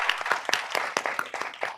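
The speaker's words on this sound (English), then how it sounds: "if we could give Eric, Grace, Diane, and Dan a great round of applause" Audience applause at a youth and family calls-to-action launch event: a dense round of clapping with repeated louder surges, sustained and close throughout.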